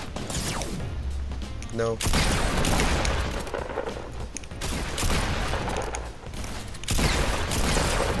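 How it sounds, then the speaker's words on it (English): A minigun fires in Fortnite as a rapid, sustained mechanical rattle of bursts that stops briefly, then resumes loud and close, with a short spoken interjection partway through. "Oh yes, the minigun."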